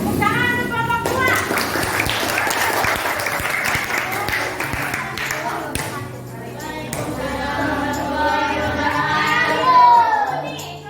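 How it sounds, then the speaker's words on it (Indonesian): A classroom claps for a student group after their presentation, dense lively applause close by with children's voices chattering through and around it. "tepuk tangan untuk kelompok 2"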